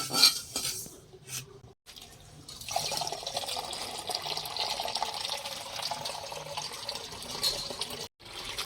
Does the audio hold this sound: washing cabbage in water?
yes